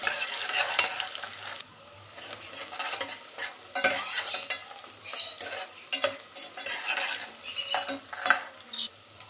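Sliced large onions fry in a pan until browned for chicken gongura biryani, sizzling steadily as a spatula scrapes and stirs in irregular clattering strokes, with no voice.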